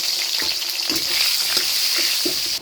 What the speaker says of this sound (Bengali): এখন ভেজে নিচ্ছি বেগুন।